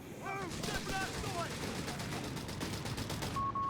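Heavy machine gun fire in a Company of Heroes 3 1v1 match, sustained rapid bursts rattling through a dense game battle mix with other effects, sitting under a caster's commentary.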